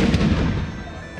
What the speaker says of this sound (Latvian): neizbīstieties no skaļa lielgabala šāviena